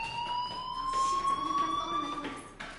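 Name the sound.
fire alarm ringing in a video game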